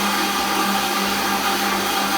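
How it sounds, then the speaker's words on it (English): A blender runs continuously and loudly on five vegan butter ingredients, a steady motor whir with a constant tonal hum and no pauses throughout. "then you're gonna blend it for about 1 minute."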